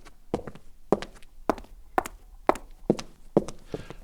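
Foley samples of a woman's heel footsteps triggered from a sampler keyboard, eight crisp, evenly spaced hard clicks at a steady walking pace, each with a short sharp attack and quick decay.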